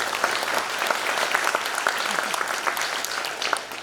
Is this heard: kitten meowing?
no